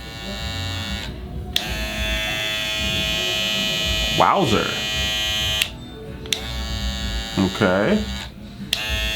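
A modded Slimline Pro hair trimmer switches on and runs with a loud, steady high-pitched electric buzz, interrupted by a few short pauses as it is turned off and back on, while someone briefly talks over it.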